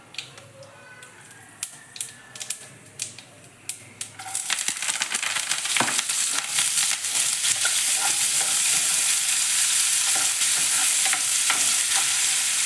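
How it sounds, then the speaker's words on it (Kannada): Mustard seeds, chopped onion, green chilli and curry leaves hit hot oil with a few sharp crackles and clinks, then a loud, steady sizzle takes over and keeps going, with scattered pops and spoon scrapes, no voices. "ಎಣ್ಣೆ ಕಾದ್ಮೇಲೆ ಸ್ವಲ್ಪ ಸಾಸಿವೆ ಹಾಕೋತಾ ಇದ್ದೀನಿ ಮತ್ತು ಸಣ್ಣ ಕಟ್ ಮಾಡ್ಕೊಂಡಿರೋ ಈರುಳ್ಳಿ ಹಸಿಮೆಣಸಿನ್ಕಾಯಿ ಕರಿಬೇವಿನ ಸೊಪ್ಪು ಅದು ಕೂಡ ಹಾಕೋತಾ ಇದ್ದೀನಿ"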